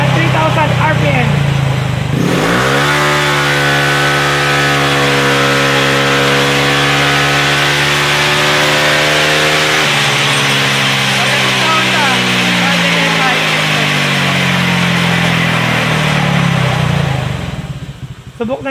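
A Honda Click 125 scooter engine revs on a dyno, rising in a long steady climb that holds a strained, buzzing high note, then drops and winds back down, loud and close throughout.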